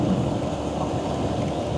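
Steady rain roars on a motorcycle ride with a Honda Monkey 125 group near Khlong Song and Khlong Sam, Saraburi trip, forming a dense, constant wash of rainfall with low rumbling beneath, no talk.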